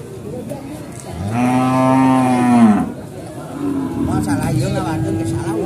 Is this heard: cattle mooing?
yes